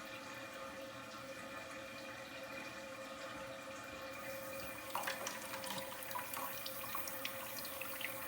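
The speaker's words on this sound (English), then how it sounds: "where this valve on the bottom side of your toilet is running" Water runs steadily from a leaking shutoff valve under a toilet, a faint continuous trickle and hiss that grows slightly busier and splashier partway through.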